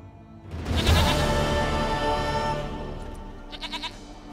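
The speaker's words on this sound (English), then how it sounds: "Goat of mine, dearest," A goat in The Witcher 3 video game gives one loud, drawn-out bleat up close, followed by fainter quavering bleats and game ambience, with no talking.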